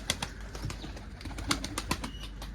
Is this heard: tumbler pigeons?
yes